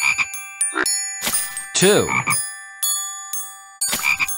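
Cartoon frogs croak in a Curious George counting game, several distinct close croaks and ribbits in irregular bursts with brief pauses between them, and a voice briefly counts over them.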